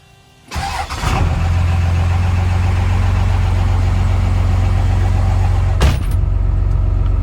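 A Ford F450 truck engine turns over and settles into a steady, fairly high idle, running loud and close with a constant low drone and no talking over it.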